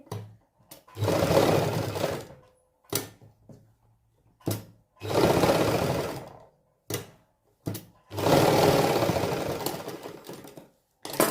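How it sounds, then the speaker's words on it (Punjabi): A sewing machine stitches elastic onto a fabric headband in three long whirring runs broken by short clicks and pauses, close and fairly loud, with no voices. "ਇੱਕ ਸਾਈਡ ਤੇ ਆਪਾਂ ਪਹਿਲਾਂ ਸਲਾਈ ਲਾ ਲਾਂਗੇ ਇਹਨੂੰ ਪੱਕਾ ਕਰ ਲਾਂਗੇ"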